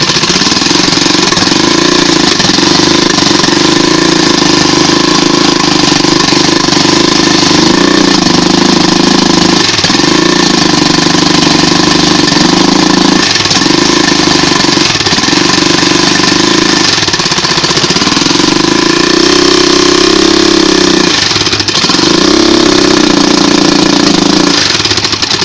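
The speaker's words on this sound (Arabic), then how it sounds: "زي ما شفنا كده قدامنا صوت الموتور عامل ازاي" A faulty motor tricycle engine runs loud and close for a long stretch, rough and uneven, with repeated dips and surges as it stumbles under throttle, with no talking.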